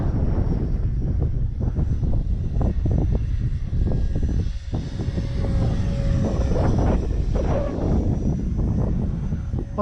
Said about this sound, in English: What a great flying little jet.